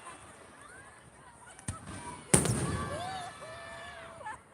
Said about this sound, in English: I am hanging out right now watching fireworks